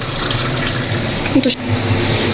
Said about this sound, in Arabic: فانا عندي الكاتل فيه ميه دافيه، هنحط في الكوبايه